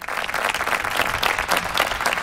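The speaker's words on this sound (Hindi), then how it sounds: "लोगों ने तालियों से उनकी सत्यता को सराहा।" Steady, dense applause from a crowd in an animated courtroom scene after a woman steps down from the witness box, loud and continuous throughout without any speech.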